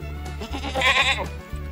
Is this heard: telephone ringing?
no